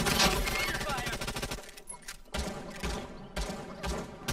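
Rapid gunfire in the video game Realm Royale, dense bursts of automatic shots with a short lull partway through, loud and close, with game music underneath.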